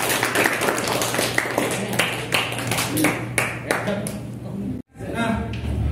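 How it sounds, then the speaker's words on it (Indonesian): An audience claps for a classroom presentation, a steady run of close, dense applause that stops abruptly near the end before room noise resumes. "Oke, beri aplaus."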